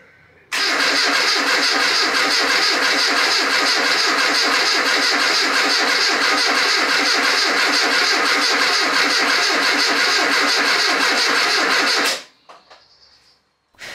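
An Austin Metro engine after a gearbox rebuild cranks briefly, then starts and runs at a loud, steady idle for about eleven seconds before cutting off abruptly, leaving near silence.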